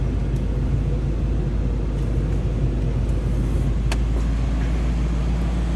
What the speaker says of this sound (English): it runs and sounds like you'd expect an 85 Cadillac to